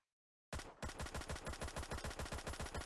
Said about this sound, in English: check out the secondary, the semi-auto version of the Tech 9